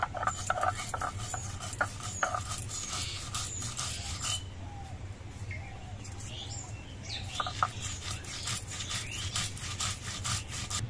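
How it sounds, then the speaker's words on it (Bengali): Spices and green chillies ground into paste on a grinding stone, a steady rhythmic scraping and rubbing close by, with faint birdsong and a rooster in the background. "এবার সব কিছু একসঙ্গে বেটে নিচ্ছি"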